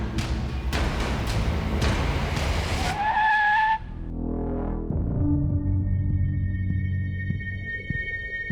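A car drives and skids in a loud roar with sharp tire squeals, then engine and tire noise shift and continue, close and constant with no pauses and no talking.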